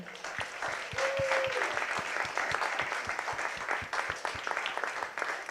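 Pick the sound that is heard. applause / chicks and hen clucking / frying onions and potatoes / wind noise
applause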